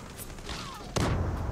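A bomb explodes in the online shooter Zula: a sudden loud boom with a rumbling tail arrives about a second in, following quieter game sounds.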